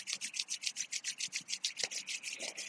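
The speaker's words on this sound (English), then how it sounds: "And rub your hands together." Palms rub briskly together during a yoga session, making about twenty quick, even strokes of close, soft friction with no voices.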